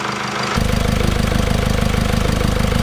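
A used diesel car engine rumbles to life after a brief lull and keeps idling as it warms up, with a steady, knocking low pulse, close and fairly loud.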